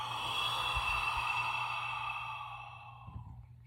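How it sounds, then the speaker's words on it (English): A slow, deep breath in and out, heard close and alone with a soft airy sigh that fades toward the end. "Deep breath in and out."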